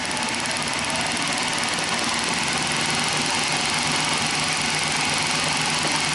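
The engine of a 1969 Triumph Daytona T100R runs on electronic ignition at a steady fast idle, a dense continuous mechanical drone with rapid ticking and no pauses, loud and close.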